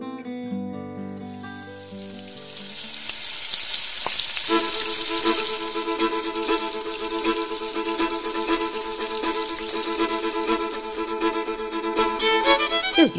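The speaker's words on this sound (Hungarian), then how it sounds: "Kezdjük először azoknál az üstöknél, ahol a tepertő vagy töpörtyű sül." Pork cracklings fry in large kettles at an outdoor pálinka and crackling festival, a steady bubbling sizzle that grows and holds under music.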